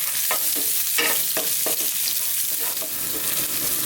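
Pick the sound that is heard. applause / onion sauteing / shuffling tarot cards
onion sauteing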